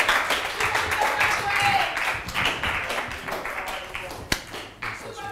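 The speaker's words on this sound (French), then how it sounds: "on peut les accompagner avec des applaudissements bien nourris, s'il vous plaît?" An audience at a youth event in Port-Bouët claps and applauds. The clapping is moderately loud and uneven, with distinct hand claps in it, and speech runs over it.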